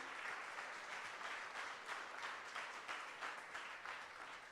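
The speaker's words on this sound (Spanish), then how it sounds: "Démosle fuerte el aplauso a Jesucristo" A church congregation claps during a Spanish-language sermon, a continuous even spread of many hands that stays fairly faint and distant throughout.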